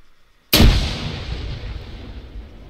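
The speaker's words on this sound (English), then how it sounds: "I dropped some grenades, be careful." A single grenade explosion in the video game Arma 3 hits after a short quiet moment, with a loud sharp blast followed by a rumbling tail that slowly fades.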